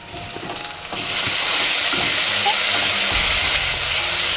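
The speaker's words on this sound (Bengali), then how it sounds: "এবার পেঁয়াজের সঙ্গে ভাজা ভাজা হতে থাকলে পেঁয়াজটা আর একটু লাল লাল করে ভাজা ভাজা হয়ে যাবে।" Onions sizzle in hot oil with ginger-garlic paste and green chilli paste for chicken kosha, a steady bright frying hiss that swells louder after the first second and holds.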